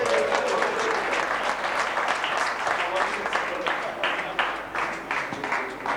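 Applause from a gathered crowd at a 2001 office inauguration for Max Life in Chandigarh, continuous dense clapping lasting several seconds, fairly loud and even, with slight variations in intensity.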